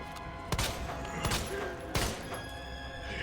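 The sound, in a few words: gunfire in the video game Resident Evil 2 Remake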